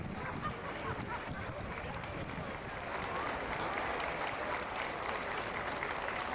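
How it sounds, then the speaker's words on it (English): A parade crowd at a homecoming gives the troops a standing ovation, sustained broad applause and crowd noise filling the open air with steady intensity throughout. "Standing ovation by the crowd. Everybody up and applauding"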